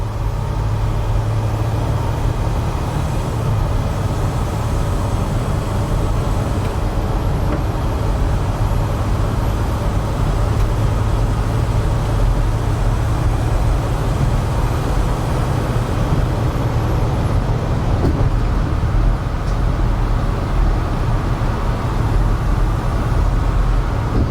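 A 2007 Mercedes Sprinter van cruises at about 60 mph near 2400 RPM, giving a steady, loud low engine drone mixed with road and wind noise inside the cabin and no voices.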